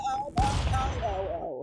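A single sharp gunshot in Stick Fight: The Game, loud and close, with a decaying boom, set among other game sounds and voices.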